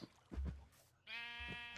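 Minecraft cows in the FTB Agrarian Skies modpack, heard as two low, drawn-out animal calls with a bleating, harmonic tone, the second sustained and loud, close by in an otherwise quiet game scene.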